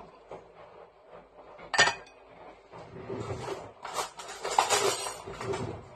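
Spoons and cutlery clink in a home kitchen while a curry dinner is served, with one sharp metallic clatter followed by scattered lighter clinks and rattles against soft background kitchen noise.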